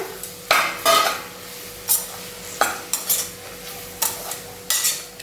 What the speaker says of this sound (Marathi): आता आपण आपल्या सर्व भाज्या घालूया यात तोंडली शिमला मिरची आणि गाजर आता तुम्ही तुमच्या आवडीच्या कोणत्याही भाज्या घालू शकता यात आणि या व्यवस्थित परतून घेऊया